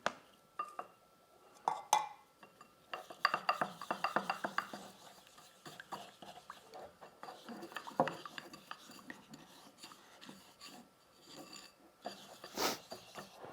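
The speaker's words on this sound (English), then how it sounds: "I'll just put a little bit more baking soda in here" Baking soda is stirred into a paste in a small dish for rust removal, with quiet irregular scraping and clinking of a utensil against the container, close up.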